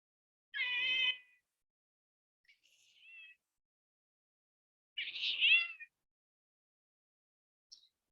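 A domestic cat gives two clear, close meows a few seconds apart, with a softer short chirp between them and near silence around.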